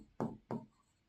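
Two quick scratchy strokes of writing on a board during a Class 12 physics lesson on electric charge, each short and close, separated by a brief pause.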